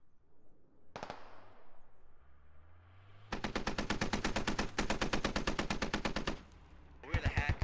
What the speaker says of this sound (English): Right, I'm gonna start sending mortars out